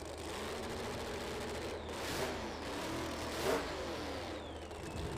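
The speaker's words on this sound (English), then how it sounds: "That crisp exhaust note of a screw-blown Hemi." Supercharged, screw-blown Hemi drag car at a street nationals drag racing event, its exhaust note a steady crackling engine roar throughout with brief louder surges, fairly close and without talk.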